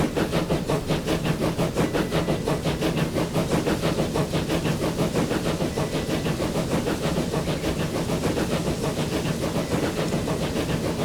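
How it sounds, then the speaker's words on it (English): British railway station ambience in the video game Transport Fever: a steady, dense wash of train engine rumble, hissing and rolling rail noise, constant in level throughout with no talk. "That sounds like a British train station."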